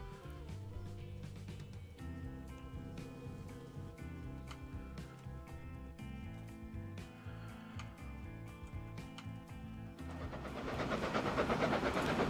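A passenger train runs along the tracks in Transport Fever 2, with a steady rolling rumble and rhythmic clicking, and the noise swells louder near the end.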